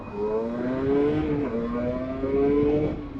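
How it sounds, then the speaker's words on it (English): A Rieju MRT 50 two-stroke motorcycle engine and exhaust, revving up and dropping back in a nasal ringing buzz, close and steady, with pitch rising and falling twice. "has that nice little 2-stroke ring to it, especially when you're coming down from RPM"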